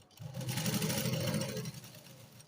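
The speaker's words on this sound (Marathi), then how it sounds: "इथे मुंड्याकडे शिलाई देताना व्यवस्थित हात असा फिरवून घ्यायचा" A sewing machine stitching along the neck of a blouse piece, a brief close whirring run of rapid stitches that starts, holds for about a second and a half, then slows and fades out.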